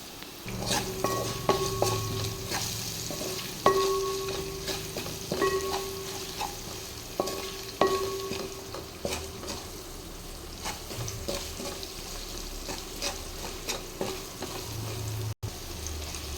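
Onions frying with salt in a pan for plain kushka, a steady sizzle with repeated stirring scrapes and clinks of a utensil against the pan, close and continuous throughout.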